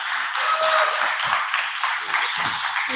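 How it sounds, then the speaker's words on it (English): Audience at a live spoken-word jam clapping steadily for a performer, a dense, even patter of applause lasting the whole stretch with no voices over it. "give a big round of applause to this angel"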